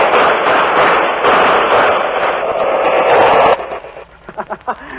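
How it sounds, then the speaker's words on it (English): Firing-squad gunshot effect on a 1945 Bob Hope radio show broadcast from Sedalia Army Airfield: a loud, dense burst of noise lasting about three and a half seconds, cutting off abruptly into a few scattered thumps. "Here comes the firing squad now"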